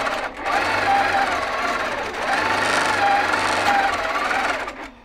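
A Baby Lock Infinity sewing machine runs steadily while the bobbin thread is pulled up. A close, continuous mechanical whir with a low thumping undertone lasts about five seconds before slowing to a stop.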